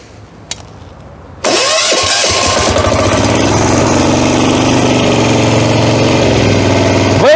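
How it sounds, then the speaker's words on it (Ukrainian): A Motor Sich 12 hp walk-behind tractor engine cranks and catches after a small click, then settles into a loud, steady running rumble close by. "Опускаємо, закриваю декомпресор, підходжу до замка запалювання"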